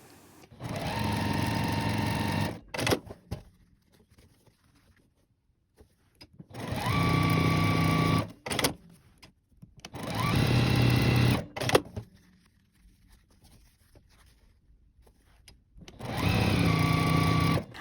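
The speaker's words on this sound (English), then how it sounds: "I just sewed these top 2 rows" A sewing machine stitches quilt block rows for a beginner quilt in four sustained runs of steady motor hum, each a few seconds long and separated by quiet pauses.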